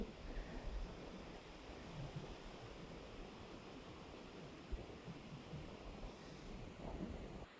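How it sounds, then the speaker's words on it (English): Strong wind blowing hard outdoors, a continuous loud rumbling buffet across the microphone with gusty surges and no voices. "the wind is blowing very hard"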